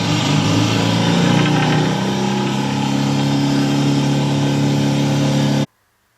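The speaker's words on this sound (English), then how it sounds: "Just to show that the engine is working" A Mercury engine idles steadily and loudly nearby with a constant droning hum, then cuts off abruptly near the end.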